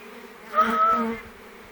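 A brief humming buzz of a honeybee swarm swelling up and fading over about a second, close by.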